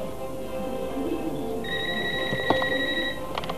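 A mobile phone rings with a bright electronic tone that repeats steadily, loud over a busy background of stage or room noise during a live comedy show.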